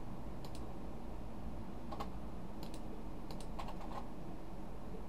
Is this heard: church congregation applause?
no